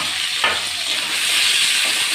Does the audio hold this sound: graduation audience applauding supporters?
no